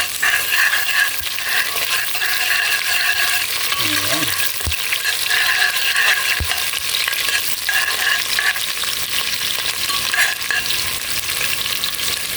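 Onion fries in a pan for a mung bean and vegetable sauté, a continuous loud sizzle with a few brief knocks and scrapes of stirring around the middle.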